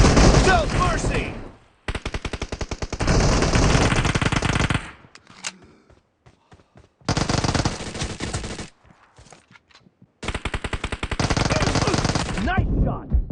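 Pistol gunfire in the mobile shooter PUBG Mobile sounds as loud, rapid volleys of close shots in three long bursts, with quieter gaps between them holding faint scattered sounds.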